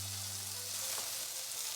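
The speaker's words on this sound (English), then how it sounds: "Which is why I put oil in the pan so I can fry it up like that." Tofu sizzles in olive oil in a hot pan for a barbecue tofu sandwich. The frying is steady, close and moderately loud, a continuous crackling hiss with a low hum beneath it and no talking.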